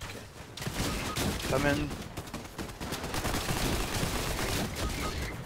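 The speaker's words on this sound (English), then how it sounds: "They're shooting from the skate park, but those might be bots." Gunfire in the Fortnite battle royale video game, rapid shots crackling steadily under game noise while players talk over it.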